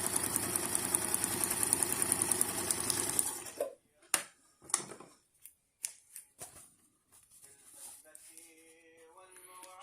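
An old Brother Riviera 110 sewing machine runs a steady, dense stitching whir for about three seconds, then stops, leaving scattered clicks and handling knocks and a faint tonal hum near the end.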